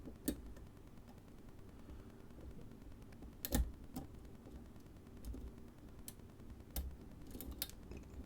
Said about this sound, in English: Pin 3 there, nice click.